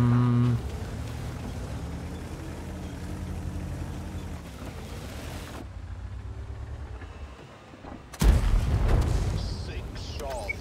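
Heavy tank cannon booms from a Type 71 tank in a video game, with a dull engine drone throughout and a sudden loud blast near the end, while voices talk.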